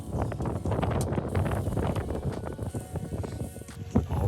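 Gusty wind at night buffets a truck camp in cold, rainy weather, with rough bursts of wind noise hitting the microphone and a faint rustle in the background.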